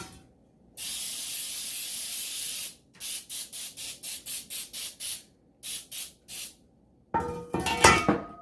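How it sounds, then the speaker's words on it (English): A long hiss of cooking oil spray onto cake pans, then a quick series of about a dozen short bursts, followed by clattering of a metal pan. "we're just going to spray, because we don't want our cake to stick, the sides and the bottom"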